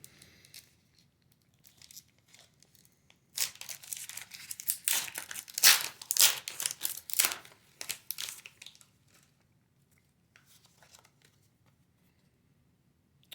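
A Pokemon TCG Paradox Rift booster pack wrapper is torn open, a burst of crinkling and ripping foil in the middle, framed by quiet handling before and after.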